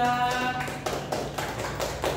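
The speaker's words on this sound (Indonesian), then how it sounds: "Beri tepuk tangan untuk kelompok 3" A high school class claps hands in scattered, uneven bursts for a student group over a sustained musical tone, with the applause fairly close and moderately loud.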